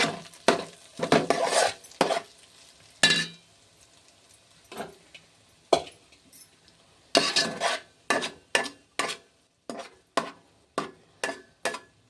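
Semiya fried rice is served onto a plate with a metal spoon, giving sparse clinks and scrapes at first, then a quick run of regular sharp taps against the pan and plate, nearby and with no talking.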